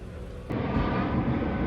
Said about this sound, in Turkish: Uçağımız iniyor. Havalimanına doğru.